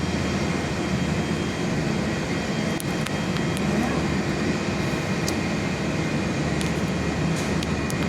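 A Qantas Airbus A320 departs Perth airport, its steady engine roar continuous and moderately loud, heard from an indoor viewing platform, with brief faint clicks over the drone.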